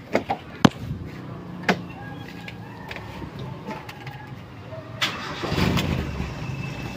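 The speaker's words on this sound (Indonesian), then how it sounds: "Oke, kita nyalakan untuk mobilnya." A Toyota Kijang engine is cranked and starts in a workshop: a few sharp clicks and thumps, then a brief crank and the engine catching into a rough, low idle that swells toward the end, with no talk.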